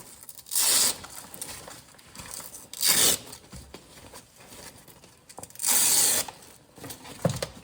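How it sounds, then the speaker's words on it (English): Velcro straps on a 2023 Polaris Ranger XP1000 bench seat are pulled apart in several close, loud ripping tears, each about half a second long, separated by quieter fumbling and handling noises. "We're gonna take these straps right here, these Velcro straps,"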